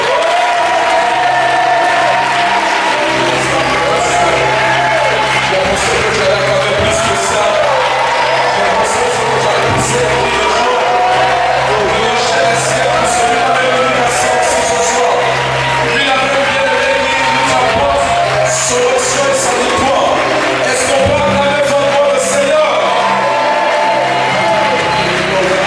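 A church congregation acclaims Jesus Christ during a night of fasting and prayer, a loud, continuous crowd roar of shouting, cheering and clapping that fills the room, with voices calling out throughout.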